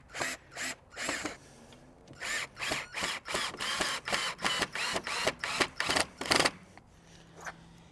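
A drill drives 3.5-inch screws straight down into a wooden post for a simple garden trellis, in a series of short pulsing whirring bursts, close and fairly loud, with brief pauses and no talk.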